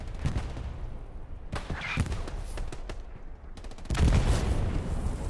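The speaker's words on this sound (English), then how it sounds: "That's an MG from over there." Machine gun fire in the Hell Let Loose wartime shooter crackles in short bursts from across a forested valley, rough and fairly distant, over a noisy battlefield background.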